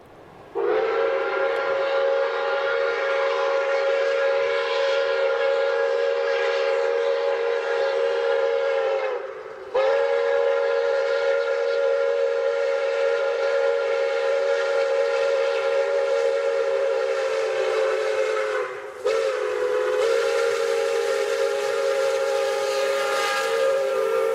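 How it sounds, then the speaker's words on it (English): A steam locomotive whistle of the kind used in The Polar Express film sounds three long, loud, steady chime blasts, each held several seconds with brief breaks between, rich and harmonic with no talking. "the Polar Express's whistle in the movie actually came from"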